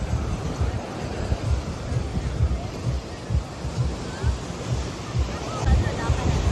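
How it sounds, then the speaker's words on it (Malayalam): Waves break steadily on the beach at Pondicherry in a continuous low roar, with wind buffeting the microphone and faint voices underneath. "ഇതാണ് ബീച്ച്."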